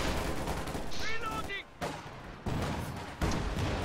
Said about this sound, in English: Ooh. Infantry support gun. It's a nice hit on that Maxim right there.